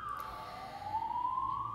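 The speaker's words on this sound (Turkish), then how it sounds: "yoldan ambulans geçiyor, sesi geliyor mu bilmiyorum" A faint ambulance siren wailing in a slow sweep, dipping and rising, passing on a road at a distance over a low background rumble.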